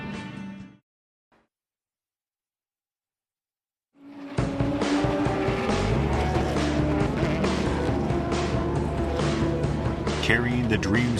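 At the 24 Hours of Nürburgring, about 200 race cars roar off together toward the start line. After a brief sound and a few seconds of silence, a dense, loud wall of engine noise comes in and holds steady.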